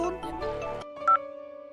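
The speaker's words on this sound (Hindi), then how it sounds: "सुजाता का फोन।" A short electronic phone ringtone melody plays, then settles into a steady sustained tone, faint and alone.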